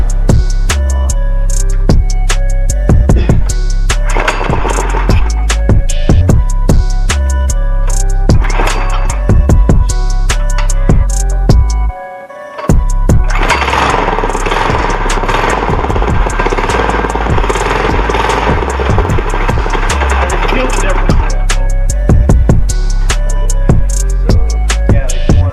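A reverse trike engine with the choke on, running loud and rough throughout with a steady mechanical clatter, cutting out briefly midway, then restarting and revving with a harsher roar.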